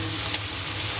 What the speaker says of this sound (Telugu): ఈ వాటర్ అంతా పోయేంత వరకు మనం దీన్ని ఫ్రై చేసుకోవాలి